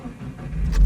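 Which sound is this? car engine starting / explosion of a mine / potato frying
car engine starting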